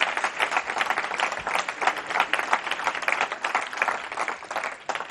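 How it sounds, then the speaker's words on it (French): An audience at a mayor's New Year ceremony in Normandy applauds: dense, steady clapping from many hands, held at an even level for several seconds with no talking over it. "je vous demande d'applaudir"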